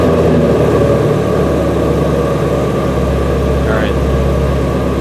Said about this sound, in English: we're going to go ahead and start this car with the exhaust in the quiet mode